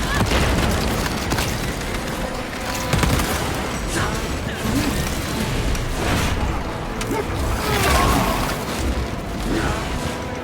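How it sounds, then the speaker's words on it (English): A frag grenade explodes in the video game Warhammer: Space Marine 2, amid a dense battle soundscape of rumbling booms and gunfire that runs continuously, loud throughout. "Frag grenade deployed."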